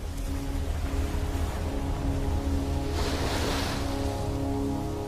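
Ocean waves rolling in at high tide along a Fiji coast, a steady broadband wash with a louder surge of surf midway, continuous and fairly close, with no voices.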